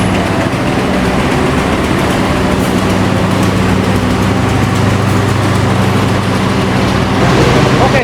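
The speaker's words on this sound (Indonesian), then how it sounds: "jalur 2 ini merupakan kereta api Menoreh dari stasiun Pasar Senen tujuan akhir Semarang Tawang" A Menoreh passenger train, running from Pasar Senen to Semarang Tawang behind an old locomotive, rolls in on track 2 with a steady, loud low engine rumble and rail noise throughout, swelling slightly near the end.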